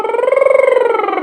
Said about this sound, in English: So it's going to be a lip trill.